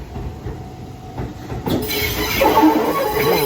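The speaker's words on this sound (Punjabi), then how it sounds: "ਆ ਗਈ ਟ੍ਰੇਨ" A train in Kamakura, Japan, rolls past a closed level crossing, its loud rumble and rising clatter building over a few seconds, with a sharp hiss near the middle.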